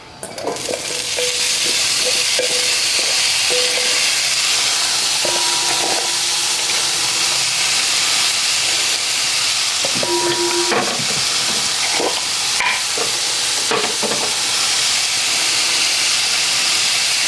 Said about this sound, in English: we're gonna get this pan nice and hot, and then add the broccoli and some salt and pepper